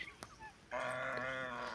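A goose on a farm lets out a single drawn-out honk after a moment of soft, faint noises, heard close and alone.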